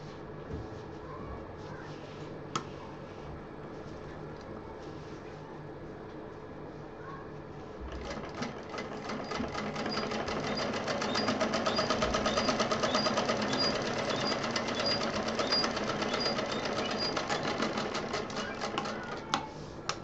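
A sewing machine stitching a small fabric pouch, quiet handling at first, then a sustained run of rapid, even needle chatter from about the midpoint onward, close and steady.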